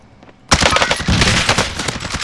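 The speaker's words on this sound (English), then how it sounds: "Sustaining fire. Shooting through metal." In the video game Warzone, sustained automatic gunfire suddenly breaks out through metal, loud and close, with a rapid dense rattle that continues unbroken after a quiet start.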